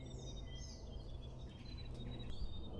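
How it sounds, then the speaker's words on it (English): A grey warbler sings in native bush, thin high wavering trills and whistled phrases repeating faintly at a distance over a low steady rumble of background noise. "It's a little native grey warbler."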